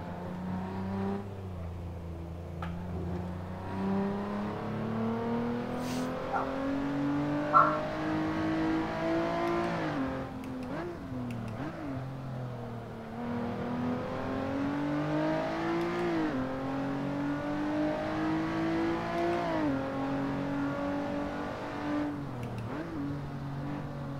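Race car engines in the Assetto Corsa racing game rev and climb through the gears, with a steady droning whine that rises, drops at shifts and swells again, moderately loud and with no talk.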